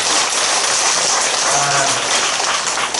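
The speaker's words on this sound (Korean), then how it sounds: "스님께 감사의 박수를 보내주십시오" A large gathering at a Buddhist temple dharma talk applauds in thanks for the monk, a loud, dense, unbroken roar of clapping lasting the full three seconds.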